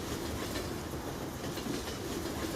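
Trains roll past in Farming Simulator 17, a steady dense rumble and clatter of rail cars with continuous wheel noise throughout, close and fairly loud.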